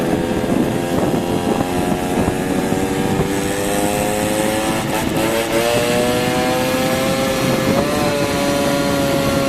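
Engine heard on board a vehicle in Liège, Belgium, pulling away from a cold start; a loud, steady drone climbs in pitch through gear changes, with no talk over it.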